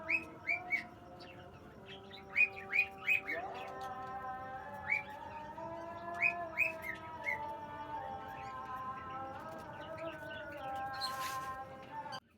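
Doves calling up close, a rescued spotted dove chick among Australian doves, with repeated high chirps and soft cooing tones layered over steady warbling notes, fairly quiet and with no talking.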